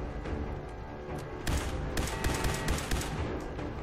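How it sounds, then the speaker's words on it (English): Enemy gunfire in the video game Fallout 4, rapid and sustained, with dense cracking volleys that build after the first second and keep rattling on without pause. "Oh man, they're shooting through there."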